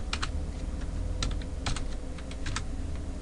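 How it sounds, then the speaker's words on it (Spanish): Quick clicks on a computer keyboard as keys are pressed in Excel, a few sharp taps spread over three seconds, close and distinct over a low steady background hum. "al pulsar Control Shift Enter generamos nuestra siguiente respuesta"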